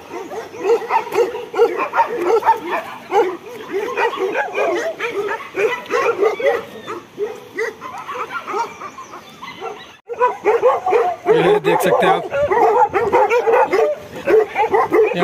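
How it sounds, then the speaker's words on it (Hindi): Bhotia dogs at a dog farm in Uttarakhand bark repeatedly, a loud, dense chorus of overlapping woofs and yips from several dogs nearby, with a short pause partway through and someone speaking briefly among them. "यहाँ पूरे चारों तरफ आपको डॉग्स दिखेंगे"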